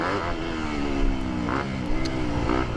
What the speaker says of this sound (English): here I'm just getting some warm-up laps on my bike